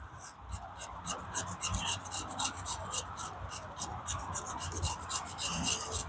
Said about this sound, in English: I'm going to use my knife and I'm going to scrape a little pile of shavings